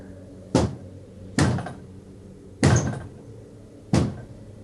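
Four heavy thuds of a man kicking a wooden door, evenly spaced about a second apart, each a loud booming impact with a short rattling tail, close and with no voices.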